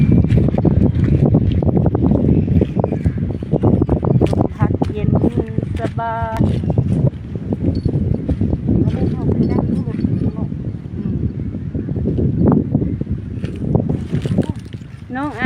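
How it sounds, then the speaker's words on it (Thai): Strong wind buffets the microphone outdoors beside the water where snails are being gathered, a constant loud roar with gusts, while voices talk intermittently underneath. "ลมพัดสบาย"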